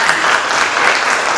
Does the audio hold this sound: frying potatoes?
no